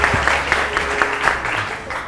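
Studio audience applause on a Hindi-language TV morning show, steady clapping from a crowd that fills the room at moderate loudness, with no talk over it.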